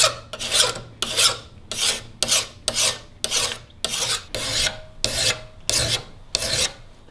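Hand file rasping across a steel knife blade clamped in a vise, shaping the bevels; about eleven steady, evenly spaced strokes, close and loud with no talk.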